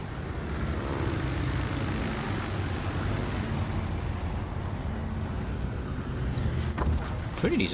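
Propeller aircraft engines drone loudly and steadily in the World of Warships naval combat game, as carrier planes fly an attack run, with a few sharper bursts near the end.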